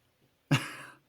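A single sharp cough from someone with a cold, close and fairly loud, bursting out once and trailing off quickly in otherwise quiet surroundings.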